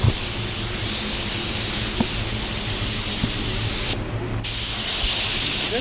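Spray gun at 25 psi laying a medium wet coat of paint on a Tesla, a continuous close hiss with a brief pause in the trigger about two-thirds through before spraying resumes.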